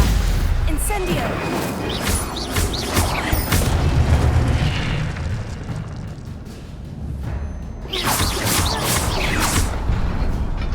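Booming, crashing spell impacts from Hogwarts Legacy combat, including Incendio fire blasts, loud and repeated, with bursts and rumbling under spoken incantations.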